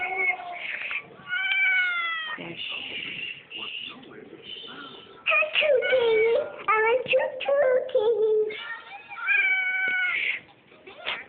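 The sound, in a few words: cat meowing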